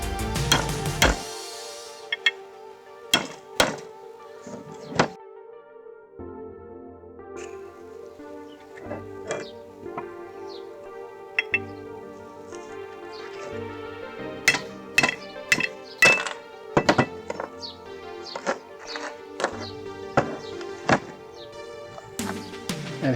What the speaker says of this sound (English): I'm going to insert that socket in there and tap it lightly.